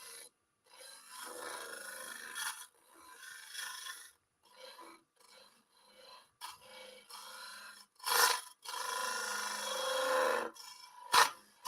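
Woodturning tool hollowing end-grain wood on a lathe: intermittent raspy scraping and rubbing bursts of varying length, separated by short pauses, moderately close.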